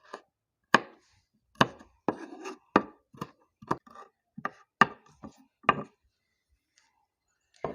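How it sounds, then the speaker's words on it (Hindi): A knife finely chops green chillies on a board in about a dozen sharp, distinct knocks, some single and some in quick pairs, close and clear with silence between them. "इनको भी मैं बारीक चॉप करके डालूँगी"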